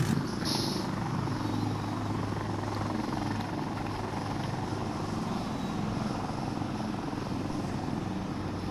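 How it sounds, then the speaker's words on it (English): A video game helicopter drones steadily throughout, a constant beating rotor roar that stays loud and unchanging for the whole stretch. "Don't go outside, helicopter."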